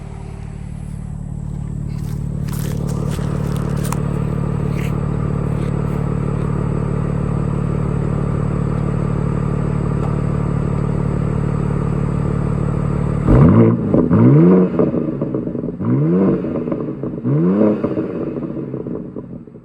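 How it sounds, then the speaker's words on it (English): A 2025 BMW M2 (G87) engine idles with a steady low rumble for a long stretch, then the driver revs it hard several times, each rev rising sharply and falling back. "let me rev it for y'all."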